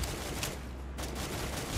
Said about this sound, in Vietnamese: bắn súng hả em ơi? Bắn ai vậy?